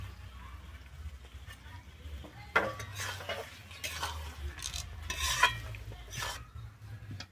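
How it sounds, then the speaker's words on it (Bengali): Fried pointed gourd stirred with potatoes in a pan, giving a soft, faint bed of scraping and stirring with light sizzle, punctuated by a few sharper utensil knocks against the pan. "আমি এরপরে দিয়ে দিচ্ছি এখানে ভেজে রাখা পটলগুলো"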